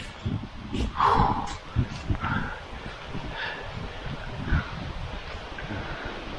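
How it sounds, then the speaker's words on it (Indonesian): Strong gusts buffet the microphone on the Mount Lawu hiking trail, a constant low rumbling roar near and loud, with people talking faintly underneath. "anginnya udah mulai kerasa kencang sekali"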